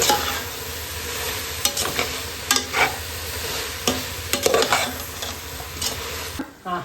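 Masala for veg biryani is stirred in a hot pan: a loud close sizzle with repeated scraping and clinking strokes of the spoon at an uneven rhythm, ending abruptly; no one speaks.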